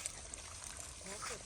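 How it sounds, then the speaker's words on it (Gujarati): Water pours steadily from a farm well into a small tank and runs on out of it, a soft continuous trickle and splash heard outdoors at low level with faint background sounds. "કૂવામાંથી પાણી આવે છે અને સાથે કુંડીમાંથી પાણી વહે છે."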